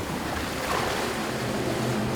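Ocean waves surge and wash steadily against the rocky shore of Cheongdeungdo island, a continuous near roar of surf with wind noise and no talk.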